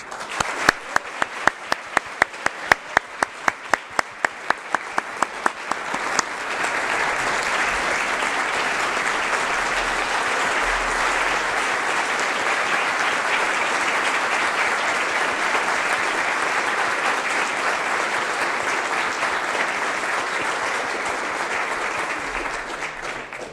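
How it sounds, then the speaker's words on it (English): Audience applause at an Order of Canada investiture ceremony: a few sharp individual claps at first, then the whole hall joins in a loud, sustained round of clapping that carries on steadily to the end. "That was a lot of clapping, but please join me once more in congratulating all of these great Canadians."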